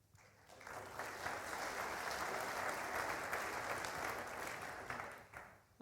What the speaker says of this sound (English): That'll be the only round of applause I get.